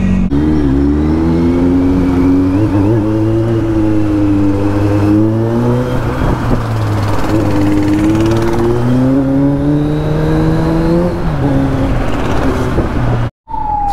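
A Kawasaki Z900 superbike fitted with an Arrow exhaust revs loud and close, its engine note rising and falling through several long sweeps before cutting briefly near the end.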